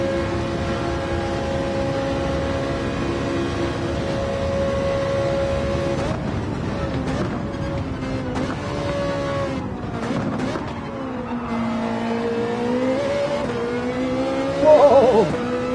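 A Ferrari race car engine in Gran Turismo 7 drones steadily, its pitch rising and falling through revs and shifts, with a brief tire squeal near the end and occasional excited talk over it.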